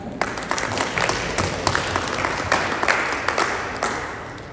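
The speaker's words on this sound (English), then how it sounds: "You can clap." Audience applause at a public dissemination meeting, a dense, steady patter of many hands clapping with a few sharper claps standing out, continuing evenly for several seconds.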